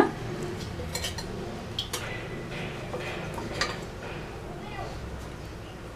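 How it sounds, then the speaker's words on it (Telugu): A pan for fish fry is set on a stove with a few light metallic clinks and taps scattered over a soft, steady background. "ముందుగా స్టవ్ వెలిగించి ప్యాన్ పెట్టుకొని"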